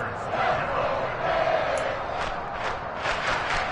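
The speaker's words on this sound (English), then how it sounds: "The crowd getting into it as we come up on a big third down." Crowd at a Bills vs Dolphins NFL football stadium roaring ahead of a big third down, a loud, sustained wash of cheering and shouting that swells slightly, heard from a distance without clear individual voices.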